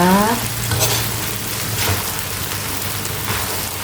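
Spicy Thai noodles stir-fried in a pan give off a loud, close, continuous sizzle, with the scrape and toss of stirring running through it the whole time.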